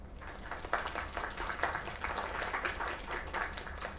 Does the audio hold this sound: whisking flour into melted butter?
no